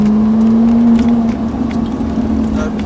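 A Ferrari 458 Italia pulls away on the Montlhéry circuit, its engine holding a steady strong drone that rises slightly in pitch as it reaccelerates, loud and close inside the car with faint wind and road noise.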